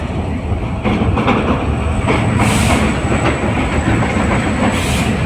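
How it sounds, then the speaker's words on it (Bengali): A train rumbles loudly and steadily close by crossing the Hardinge Bridge at Paksey, Ishwardi, Bangladesh, wheels clattering over the tracks with a hollow, roaring drone and faint metallic squeals. "ইতিমধ্যে ট্রেন চলে এসেছে"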